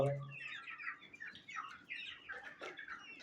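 Desi chickens cluck and chirp in a steady stream of short, overlapping calls, fairly close and moderately loud, with a brief low hum at the very start.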